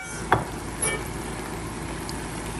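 Portobello mushrooms sauté in a hot pan, a steady soft sizzle with a couple of faint stirring clinks near the start, close up and without any talking.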